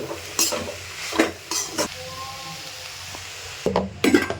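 Cluster bean palya with coconut and coriander stir-frying in a pan, with intermittent scrapes and clacks of a spoon against the pan over a low sizzle.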